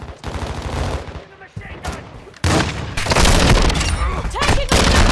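Gunfire in a tactical shooter game on the Vondel map: dense, loud bursts of shots and booming blasts that pause briefly, then return as heavier continuous fire.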